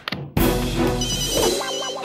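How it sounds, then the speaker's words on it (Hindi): A phone rings after a short knock-like sound, a loud electronic ringtone with bright sustained tones that shift in pitch over two seconds. "अरे हाँ जिया, मैं तुम्हें फोन कर रहा था।"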